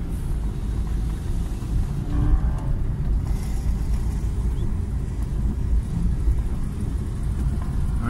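Porsche cars on a sighting lap of a race track, heard as a steady low engine rumble and road roar from inside a moving car, with no distinct passes.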